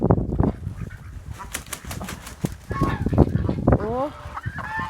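Hens and a rooster cluck and squawk nearby in Ingushetia, with wing flapping and scattered rustling, a few higher calls toward the end.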